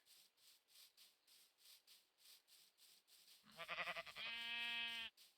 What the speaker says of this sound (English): Noisy sheeps.